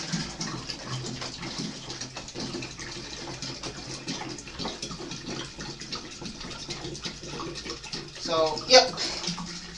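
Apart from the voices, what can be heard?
pouring sugar water into a jug of homemade wine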